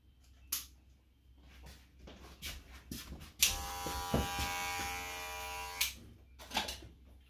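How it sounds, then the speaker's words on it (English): Electric hair clipper set with a 1/8 guard running during a gentleman's haircut, a steady close buzz lasting a few seconds between sharper clicks and handling knocks. "regular clipper."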